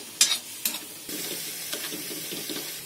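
Onion and tomato paste fries in a pan with a soft steady sizzle, broken by a few sharp clinks and stirring scrapes up close, with no talking.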